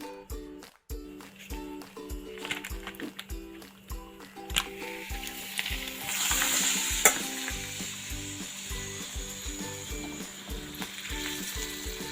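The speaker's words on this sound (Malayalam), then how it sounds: "അതിനടുത്ത അടുത്ത പരിപാടിയാണ് പപ്പടം പൊരിക്കുന്നത്" Papadams fry in hot oil, giving a loud, continuous crackling sizzle that swells midway, with stirring and a tonal music bed underneath.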